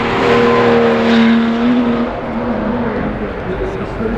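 A Ferrari 812 Competizione Aperta, an extreme front-engine supercar, accelerates on a race track, its engine note rising in pitch then easing into a steady roar, loud and close, with a voice talking over it.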